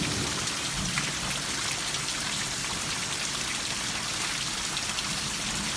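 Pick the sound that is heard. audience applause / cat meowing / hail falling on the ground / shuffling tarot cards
hail falling on the ground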